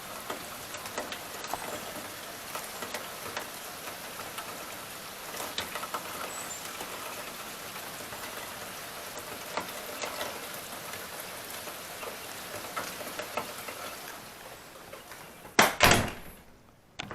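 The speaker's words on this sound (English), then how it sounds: "it's raining cats and dogs out here" Steady rain falls outside in a continuous hiss with scattered drop ticks, fairly faint and even, followed near the end by a loud sharp bang like a door closing nearby.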